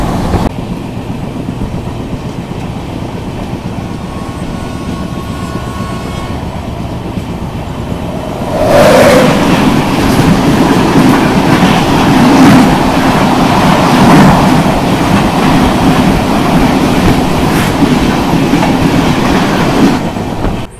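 The Mahabodhi Express runs fast on the New Delhi to Gaya line, giving a loud continuous rumble that swells partway through into a rhythmic clickety-clack of wheels over rail joints, with no voices.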